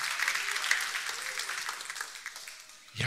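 Church congregation applauding at a sermon, a steady wash of many hands clapping at moderate distance, fading slightly before a brief low thump at the end.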